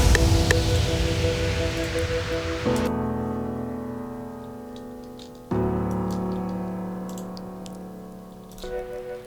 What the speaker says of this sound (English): someone asked me how I made the piano.